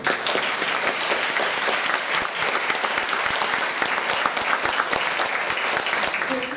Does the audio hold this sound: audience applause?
yes